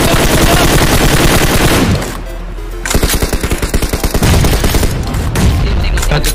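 Rapid bursts of automatic gunfire in a battle royale-style shooter game, loud and close, with dense rattling volleys, a brief lull, then repeated sharp shots continuing to the end.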